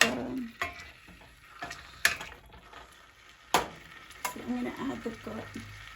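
Little smokies sausages fry in a pan with garlic being added, giving a soft background sizzle broken by sharp clinks and scrapes of a utensil against the pan, with a voice talking quietly.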